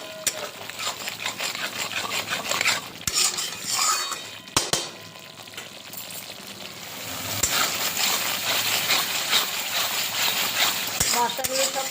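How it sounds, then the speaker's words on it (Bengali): Boal fish curry masala with a little sugar being stirred and sautéed in a pan, spoon scraping and clinking against the metal in irregular bursts over a steady low sizzle, close and moderately loud. "অল্প একটু চিনি দিয়ে দিলাম এটা দিয়ে ভালো করে কষাতে হবে"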